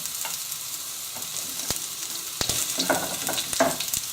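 Onion, carrots, courgettes, sweet corn, green beans, peppers and mushrooms stir-frying over high heat in hot oil, a close crackling sizzle punctuated by sharp spatters and scraping stirs.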